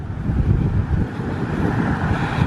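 Outdoor wind buffets a microphone in a low, steady rumble that swells and dips slightly, close and fairly loud, with no talking over it.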